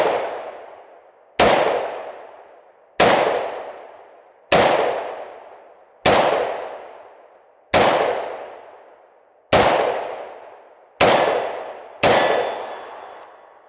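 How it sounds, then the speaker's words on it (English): A 1952 military rifle fires nine evenly spaced shots at steel plate racks, each loud crack paired with a ringing metallic clang that decays before the next, with no talk. "Anyway, let's see how this guy runs. We'll fire at these plate racks."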